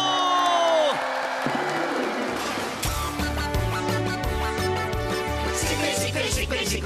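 An audience on a children's TV show cheers and applauds. A loud crowd roar rises over music and builds into steady clapping with whoops.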